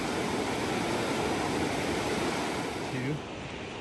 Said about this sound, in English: The Mckenzie River is a beast now.